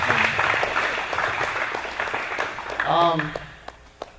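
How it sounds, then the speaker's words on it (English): Audience applause at a live epoxy flooring competition event, a broad steady wash of clapping lasting several seconds, with voices and a brief sung or spoken tone rising over it near the end before it fades. "round of applause for that"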